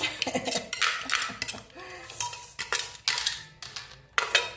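Repeated glassy clinks and knocks, like bottles tapping together, come in irregular bursts close by, with no talking, as bottles are set out beside a tray of spicy papaya salad.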